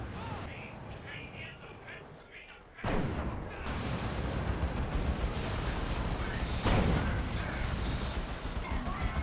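Noise Marines' Blastmaster artillery firing in a Dawn of War 2 Retribution Elite mod match, heavy booming battle noise with repeated blasts under continuous commentary.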